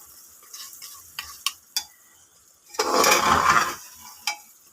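Meat being sautéed (kosha) in a pan, a short burst of sizzling and stirring after a few clinks of a utensil against the pan, fairly close.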